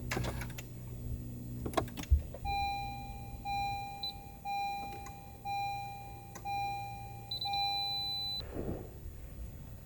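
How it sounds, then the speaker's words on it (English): A gauge control unit in a 10th-generation Honda Civic Type R gives a series of startup beeps in short repeating pulses over several seconds, clear and close against a quiet background. "You can actually turn off the beep also on the control unit"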